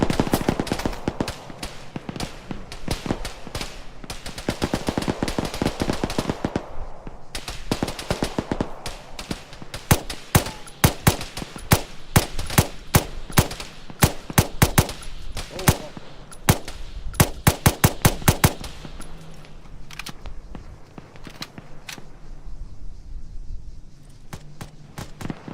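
Bursts of machine gun fire from a vehicle in a military video game, rapid rattling volleys in repeated strings of varying length, loud and sharp, with brief pauses and some talk.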